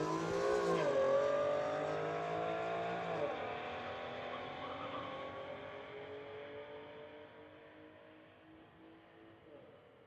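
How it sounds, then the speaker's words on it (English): At a street-legal drag race, a Honda and an Infiniti accelerate away from the line, engines roaring with audible gear changes, then fading gradually into the distance. "Honda versus Infiniti. Infiniti on the spectator side."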